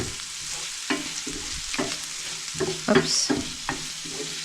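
Onions frying for shakshuka in a pan, steady sizzle with repeated scraping strokes of a utensil stirring them, close and fairly loud, with a brief spoken exclamation.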